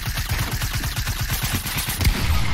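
Rapid automatic gunfire in Fortnite, a fast burst of closely spaced shots pounding steadily for about two seconds, loud and near, followed by a heavier single report.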